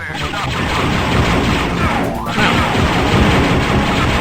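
Rapid rifle fire in the video game Dark Forces, a dense, loud continuous burst of shots with a short gap midway before the firing resumes.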